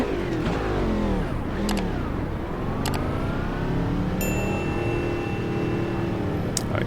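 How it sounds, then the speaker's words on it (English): The Cadillac DPi race car at Daytona in the Automobilista 2 racing game produces a loud, continuous engine note throughout, rising and falling in pitch with repeated revs and gear shifts. "welcome to Daytona and on board the Cadillac DPi for the first time"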